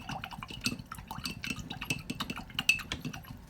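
A paintbrush is swished and tapped in a cup of paint water, quiet irregular splashes and drips with small clinks against the container, close up and alone.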